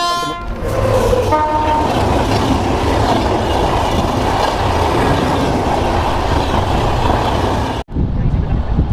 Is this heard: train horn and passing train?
yes